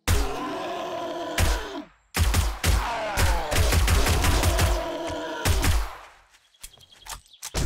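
Rapid gunfire aimed at a zombie in the survival game 7 Days to Die, loud close bursts of shots in quick succession with brief pauses, trailing off into a few scattered sounds at the end.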